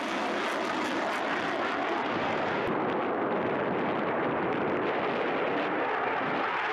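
The twin Pratt & Whitney engines of an F-15E Strike Eagle run at afterburner thrust, a loud, continuous, broadband jet roar that stays steady and powerful throughout.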